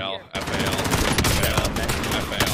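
Rapid, dense automatic gunfire in the Warzone battle royale video game rattles continuously and loudly in close, overlapping bursts for the whole moment.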